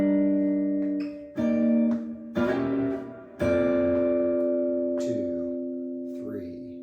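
Guitar plays a laid-back chordal groove riff, a few sustained chords struck one after another with gaps between them, ringing out and decaying, played alone at moderate volume.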